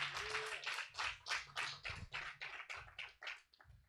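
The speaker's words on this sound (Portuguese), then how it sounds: "Você pode colocar vida nessa palma." Church members clap together in a steady rhythm during a communion service, roughly a dozen soft claps at an even pace, faint and somewhat distant over a low hum.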